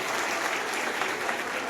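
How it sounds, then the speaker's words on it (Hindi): Loud, sustained applause from an audience at a college gathering in Dinanagar honouring a visiting scholar, a dense steady clatter of many clapping hands filling the whole stretch. "जोरदार तालियां"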